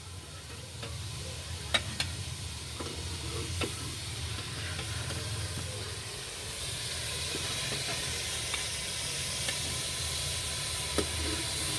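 Food fries in a pan over a hot cow-dung fire, a steady close sizzle and hiss running throughout with a few soft clicks of stirring, and no talk.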